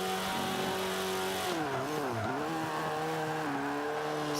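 Tires spin and squeal on a race car in Forza Motorsport 5 as the engine drones steadily and its pitch dips and wavers under the slip, loud and continuous with no talk.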